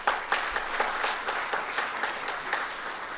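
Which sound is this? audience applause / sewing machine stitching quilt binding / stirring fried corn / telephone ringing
audience applause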